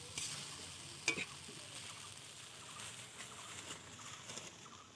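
Pangas and tengra fish curry with brinjal being stir-fried in a pan gives a faint, continuous sizzle with soft scraping stirs and one brief clink, no one talking.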